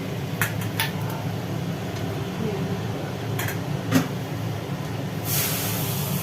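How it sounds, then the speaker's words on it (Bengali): A freshly washed wok set back onto a gas stove in a home kitchen: a few light metallic clanks over a steady background hiss, which swells louder near the end. "কড়াটা ধুয়ে আবার গ্যাসের ওপরে কড়া চেপে গেল"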